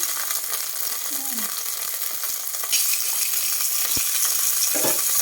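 Steady loud sizzling of shrimp stir-frying in a hot wok for pad thai, with occasional scrapes and clinks of stirring; a voice speaks briefly underneath.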